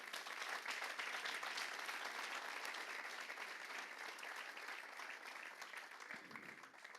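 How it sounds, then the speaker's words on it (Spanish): Congregation in a church applauding, a dense, continuous wash of many hands clapping together that holds steady throughout and fades slightly near the end. "Dale un aplauso al Señor."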